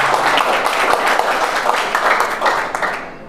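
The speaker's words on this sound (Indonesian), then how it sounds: "Tepuk tangan buat Eyang Sugi rekan-rekan sekalian." Applause from a seminar audience, many hands clapping together in a loud, lively burst with small pulses of emphasis, easing off near the end.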